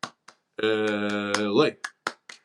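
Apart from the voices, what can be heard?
hand clapping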